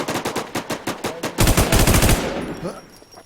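Rapid machine-gun spray fire in a video game: a loud close burst of evenly spaced shots that quickens into a dense roaring volley, then trails off with ringing.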